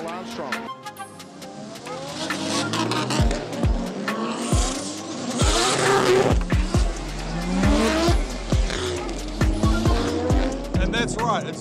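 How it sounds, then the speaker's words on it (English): Drift cars at a D1NZ drifting round in New Zealand, engines roaring and tires squealing loudly and continuously as they slide past, with a commentator talking over the action. "Second pass from Olive Cronin, laying down a fantastic drive, leading out Cole Armstrong."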